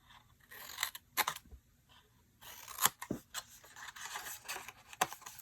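Scissors cutting through a paper box, with separate bursts of crisp snipping and crunching close by, broken up by short quiet pauses.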